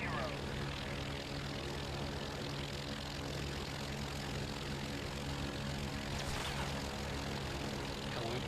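The steady propeller engine drone of a fighter aircraft in IL-2 1946, droning continuously at an even level with no break, with faint voices underneath.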